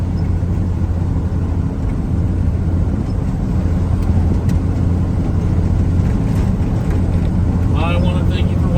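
A forestry bucket truck driving down a road at around 45 mph, its engine and road noise a loud steady drone from inside the cab, with someone talking over it.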